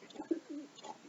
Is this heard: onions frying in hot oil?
no